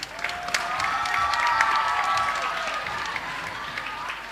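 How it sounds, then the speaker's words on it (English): An audience at a school end-of-term performance claps in a full, sustained round of applause with some cheering and whoops, holding steady before easing slightly. "So let's give another big round of applause to Rama class."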